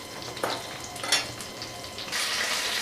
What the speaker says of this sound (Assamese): মাছখিনি ফ্ৰাই কৰা হৈ গৈছে।